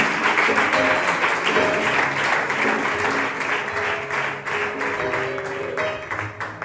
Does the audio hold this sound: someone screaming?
no